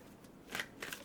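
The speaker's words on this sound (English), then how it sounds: "Let me shuffle and pull the third card." Tarot cards shuffled by hand in two brief papery bursts, a soft riffle and then a second quieter flutter, close by and with no talk.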